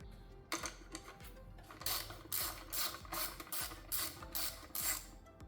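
Ratchet turning an 8mm socket on a 2024-2026 Buick Encore GX 1.3L engine while spark plugs and coils are replaced, a rapid clicking pawl in repeated bursts, close and fairly quiet, with no talk.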